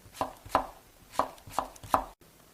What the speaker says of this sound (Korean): 오이 한 개가 310g인데요. 양쪽을 잘라내고요. 어슷어슷하게 썰어줄게요.